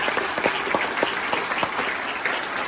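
Town hall audience in Santa Clarita applauding, a steady spread of many hands clapping with scattered sharper claps throughout, fairly close and continuous.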